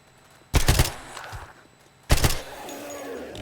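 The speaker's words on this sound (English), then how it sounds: "I love the sound of that, the silencer on it." Two shots from a silenced rifle in the video game 7 Days to Die, about one and a half seconds apart, each a sharp, muffled crack with a brief tail.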